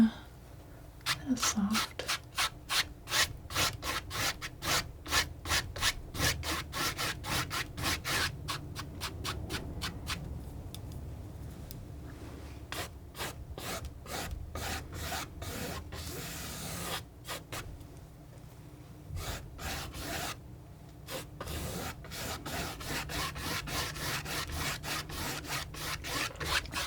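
A palette knife brushing paint across canvas, making a steady, close scraping and rasping in rhythmic strokes that go on for the whole stretch, with soft speech over it at times.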